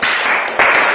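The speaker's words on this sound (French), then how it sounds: "Applaudissez pour vous encore" Audience clapping, a dense burst of many hands close by and loud, with a brief dip midway before the applause surges again.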